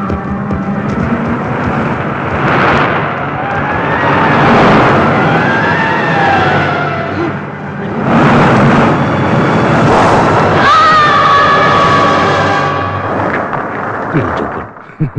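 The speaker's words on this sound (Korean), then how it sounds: "눈사태 맛이나 봐라." A cartoon snow avalanche rumbles down in long, loud roaring surges that swell and fade twice, with crashing, whooshing textures layered through the rumble.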